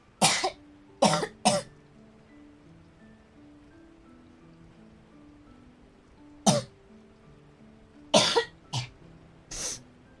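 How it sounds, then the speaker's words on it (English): Six sharp coughs from one person in two clusters, three quick ones early and three more near the end, loud and close against a faint background of low sustained tones. "I know you're coughing, but bless you."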